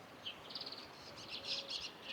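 Small birds chirp and twitter in quick, high bursts at the Cerro de San Cristóbal castle in Seville, moderately distant over a steady outdoor background hiss.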